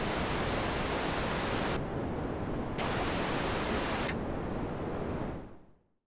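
Broadband noise runs through a Doepfer A-106-6 XP Eurorack filter in 2-pole low-pass mode, a steady loud hiss whose top end is cut twice, darkening briefly before opening back up and then fading out at the end.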